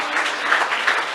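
Standing ovation for Mme Geoffroy at a conference on youth mental health in Québec during the pandemic: a brief, dense wash of applause from an audience, steady and fairly loud with slight swells.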